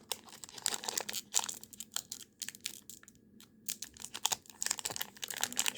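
A foil Pokémon booster pack wrapper is torn and crinkled open up close, with bursts of sharp crackling and tearing that come and go over several seconds.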